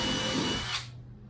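A power drill runs at full speed for under a second, driving screws into a Hobie Island Adventure kayak during a fish finder install, then cuts off and leaves a quiet tail.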